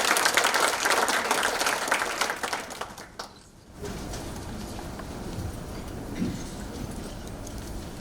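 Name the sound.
audience applause for the mayor of Bruges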